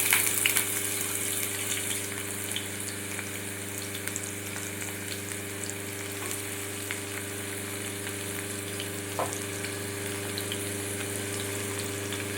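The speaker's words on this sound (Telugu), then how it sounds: "హీట్ అయిన తర్వాత మనం ముందుగా కట్ చేసి పెట్టుకున్న ఉల్లిపాయ ముక్కలను దీంట్లో వేసుకుందామండి" Chopped onion pieces frying in hot oil for a Godavari small-prawn curry, a steady broadband sizzle with low hum running evenly throughout, one faint clink near the end, no voices.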